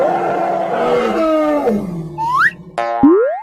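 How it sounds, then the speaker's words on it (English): Cartoon T-Rex dinosaur letting out a loud, rumbling roar that sweeps downward, close and alone, followed by two quick rising boing-like effects. "T-Rex."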